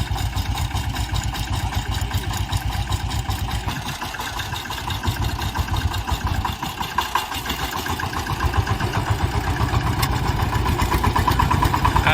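VST power tiller running in reverse gear, a loud, steady, chugging single-cylinder engine drone with fast regular pulses, close by and continuous, the revs rising slightly toward the end.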